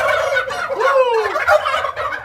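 Large turkeys gobbling up close, a loud warbling rattle of overlapping calls from several birds repeating over a couple of seconds, with no speech.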